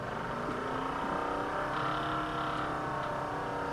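A motor in a soldering fume extractor with an active carbon filter runs from a lab power supply, giving a steady, even whirring hum throughout at moderate level.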